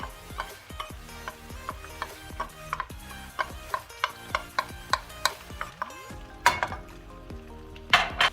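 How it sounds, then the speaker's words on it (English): Chopped garlic hitting melted butter and olive oil in a hot pan, a bright crackling sizzle with repeated sharp clinks of a utensil stirring against the pan at a steady rhythm, close and clear. "Alrighty, butter is almost completely melted. The olive oil we added is just to prevent the butter from burning while the heat is increasing. So let's go ahead, add our garlic that we chopped"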